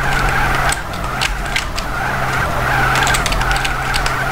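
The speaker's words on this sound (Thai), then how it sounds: "การดริฟต์นี้ต้องผ่านการฝึกไว้เป็นอย่างดีนะ" A car drifts with sustained tire squeal and skidding in GTA San Andreas on the Kagarasan map, a steady engine drone underneath, loud and continuous throughout.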